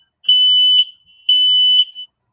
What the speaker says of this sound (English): my smoke alarm. Great.